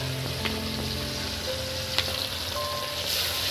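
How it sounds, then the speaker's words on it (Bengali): Hilsa fish frying in hot oil, a steady close sizzle running throughout with faint clinks and short tonal beeps over it. "ইলিশ মাছ ভাজা চলছে আপনার"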